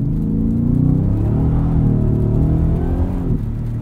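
A 2023 Ford F-150 Raptor R accelerates hard on the street, its engine giving a loud, close, continuous throaty roar with rising harmonic tones throughout.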